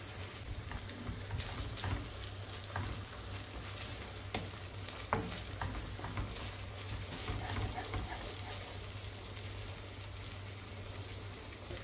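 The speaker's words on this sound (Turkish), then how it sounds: "Üzerine 1 yemek kaşığı kadar tereyağı ilave edip tereyağı eriyene kadar pişirmeye devam ediyoruz." Butter sizzles and crackles steadily in a hot pan while being melted for Kayseri yağlaması, a continuous frying hiss with scattered pops and a low hum underneath.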